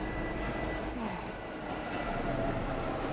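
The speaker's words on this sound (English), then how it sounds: "The train's already here" A train pulls into a station in the video game 13 Sentinels: Aegis Rim, making a steady low rumble and a constant wash of noise that stays loud and even throughout.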